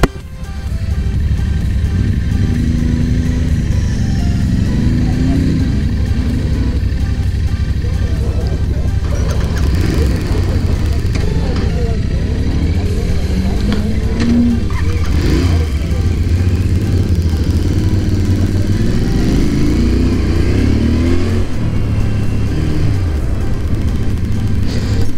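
Royal Enfield Interceptor, GT and RR 310 motorcycles riding off together, with a steady, close mid-pitched engine drone, brief revs and faint rising and falling engine pitch throughout.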